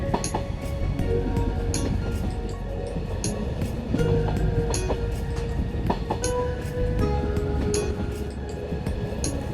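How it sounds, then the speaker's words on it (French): Bernina Express train running on the Swiss railway near the wooden station at Solis, a steady close rumble with repeated rhythmic clicks and clinks from the rails and carriages. "Le train fait un court arrêt à Solis"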